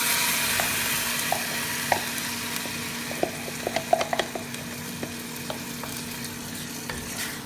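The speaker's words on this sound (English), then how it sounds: "Now that my onion is nice and translucent, I'm going to add the pasta sauce" Pasta sauce hitting sizzling translucent onions in a pan, a steady frying hiss with light scattered pops and spoon clicks against the pan, close and continuous with no talking.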